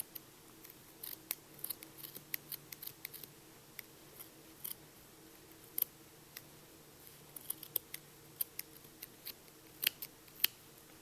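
Scissors snip repeatedly through yarn ends on a crocheted Minnie Mouse beanie, making sharp close clicks at an uneven pace over a quiet background.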